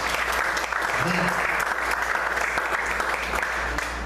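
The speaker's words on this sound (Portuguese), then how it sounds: "Vamos aplaudir ao Senhor." A church congregation applauding during a worship service, a continuous broad roar of many hands clapping together at steady loudness, with a low hum underneath.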